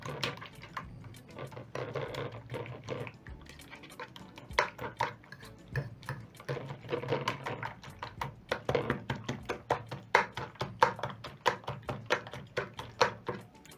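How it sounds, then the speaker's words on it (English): A fork whisks chopped red and green capsicum, a small onion and spices in a bowl, making steady, close clinking and tapping strokes that quicken and grow louder toward the end, with no voices. "Using a fork, I'm going to whisk in everything to combine."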